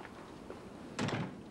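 A door swings shut indoors with a single muffled thud that rattles briefly, moderately loud and close, after a stretch of quiet room tone with no talking.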